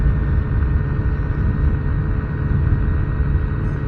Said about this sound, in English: I've got throttle wide open here.